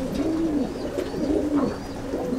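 A joint-boned pigeon coos in a close, steady series of low rolling notes with no talk.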